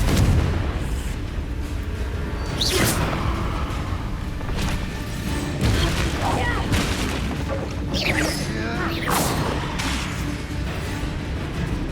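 Spell explosions in Hogwarts Legacy during a mine-set story quest, a rapid series of loud booms and blasts recurring every second or two, layered with gamer chatter and shouted incantations.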